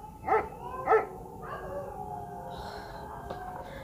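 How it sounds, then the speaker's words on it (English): Two sharp dog barks ring out close by, followed by softer yips and whimpering sounds from the dogs over a low steady background. "Oh, the dogs."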